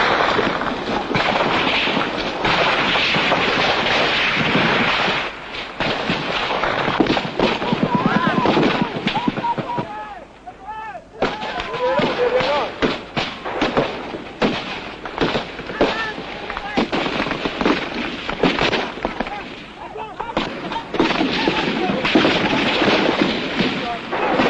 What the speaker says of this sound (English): the rifle fire, light machine gun fire sounds extremely close overhead